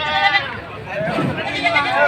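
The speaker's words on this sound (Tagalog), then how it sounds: "Ang kanyang kambing na ito." A goat bleats in repeated wavering cries close by at a goat market in Padre Garcia, Batangas, with people's voices murmuring underneath.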